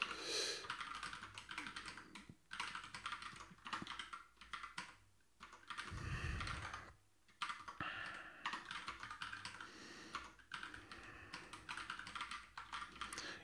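Fingers tap rapidly on a computer keyboard in bursts of quick keystrokes with short pauses, close and fairly quiet, with no talking.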